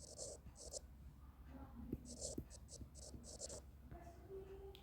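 A pen scratches across paper while mathematical physics equations are written by hand, in short faint strokes with small pauses, soft and close under low room noise.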